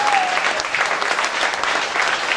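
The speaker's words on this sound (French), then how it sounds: "Nous applaudissons le Seigneur comme des vivants qui applaudissent un Jésus vivant." A church congregation claps together in steady, dense applause that fills the room throughout.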